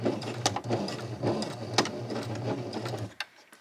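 A sewing machine runs a short seam and finishes with a backstitch, its needle chattering in a rapid, steady rhythm with a few sharper clicks, then stopping abruptly near the end.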